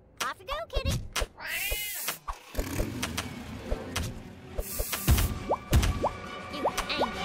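A cartoon cat meows once amid busy video game sound effects, engine noise and clicks, with a voice speaking over parts of it.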